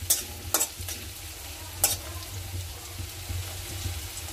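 Onions frying in a pan on a gas stove make a constant, low, crackling sizzle, broken by a few sharp scraping clicks from stirring.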